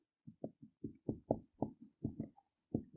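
Someone writes on a board during a chemistry lesson: about a dozen short, quiet scratching strokes, close by, in an uneven rhythm with brief gaps.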